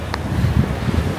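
Strong gusty wind sweeps the North Coast of Taiwan, a loud, rumbling buffet against the microphone with short surging gusts and no talking.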